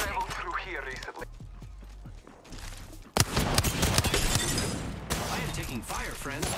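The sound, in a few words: gunfire in a squads shooter video game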